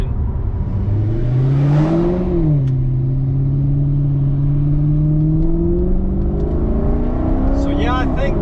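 Engine of a Maserati GranTurismo while driving, a loud steady drone that rises and falls in pitch as it revs, with someone talking over it.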